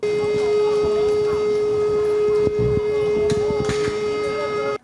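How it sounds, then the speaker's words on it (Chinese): A steady, loud air raid siren holds throughout during a civil defense drill in Taiwan, with muffled thumps and distant voices underneath before it cuts off at the end. "防空警报雄雄开始弹"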